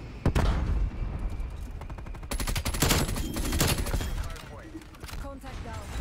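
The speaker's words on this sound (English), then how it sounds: "Got a strafe run." Rapid bursts of automatic gunfire from a strafe run in Call of Duty Cold War, loud and dense, arriving in quick overlapping volleys that swell midway and trail off into scattered shots over a game soundscape.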